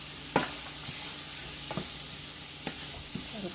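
Rice toasting in a hot pan for a scallop and mushroom risotto gives a steady low sizzle, with a few sharp scrapes from stirring spaced through it.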